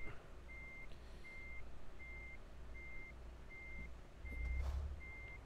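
Truck reversing alarm in Euro Truck Simulator 2, a steady run of evenly spaced electronic beeps repeating about every 0.7 seconds under low engine rumble while the truck maneuvers, with no talk.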